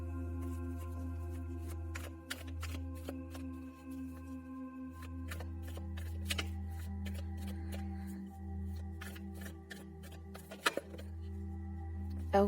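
Tarot cards being shuffled and handled during a card reading, with soft flicks and riffles near and quiet over a steady low hum and tonal background drone, with no talk.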